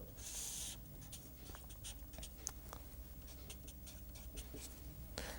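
Chalk or pen drawing a curve on a board in a lecture, a faint continuous scratchy stroke with a brief louder squeak, quiet room hiss underneath.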